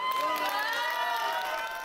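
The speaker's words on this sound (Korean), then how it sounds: "연장전까지 가는 접전 끝에 강원 대표 선수의 우승이 확정되자 박수와 환호가 터져나옵니다." Crowd applause and cheering break out at a youth judo championship bout, a bright, sustained wash of clapping and shouts from a nearby audience.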